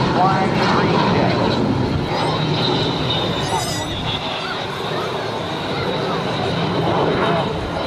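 An L-39 Albatros jet trainer roars loudly overhead at a windy airshow, a sustained engine whine and rumble that slowly eases as it moves away.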